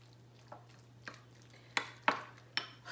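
Guacamole ingredients being stirred in a bowl give a few spaced scraping clinks, quiet and close, each short and separate over a faint steady hum.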